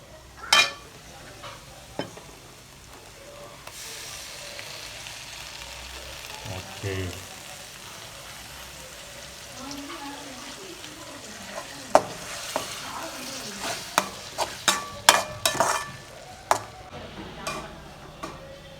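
Ground tomato paste fries in a pan with a constant low sizzle, broken by sharp metal spoon scrapes and taps from stirring that grow busier toward the end, while someone talks at intervals.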